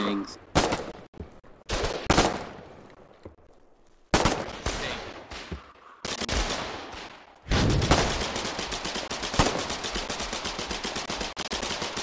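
Video game gunfire rattles in rapid automatic bursts and single loud shots, close and harsh, separated by short gaps before a sustained stream of fire near the end.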